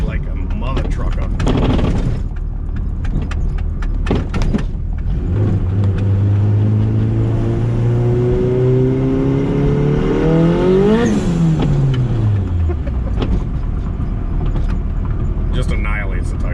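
A turbocharged EF hatchback makes over 350 hp on a street pull on bald tires. The engine revs up sharply in a rising whine, peaks and drops, loud and close throughout, with people talking over it.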